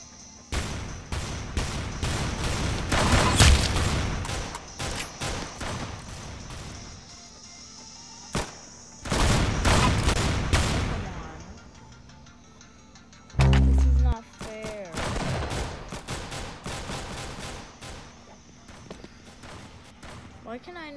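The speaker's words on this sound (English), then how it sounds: "who's shooting me from behind?" Bursts of gunfire in the Roblox game Arsenal, free-for-all mode: rapid clustered shots in several volleys with gaps between, close and loud, plus a sharp low thud near the middle.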